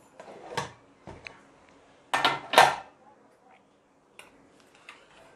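Metallic clanks and scrapes of a pressure cooker lid being handled and opened after the pressure is released, a few sharp clatters close by, with quiet gaps between.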